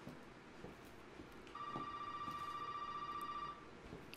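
A telephone in Resident Evil 7 starts ringing midway, a single sustained electronic bell tone lasting about two seconds over a dim, quiet ambience.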